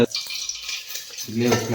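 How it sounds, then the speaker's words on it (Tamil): Hot oil crackles and sizzles steadily as mustard seeds pop in a pan, with a brief stir or clink and a voice joining near the end. "எண்ணெய் காஞ்சிருச்சு, கடுகு தீஞ்சிருச்சு."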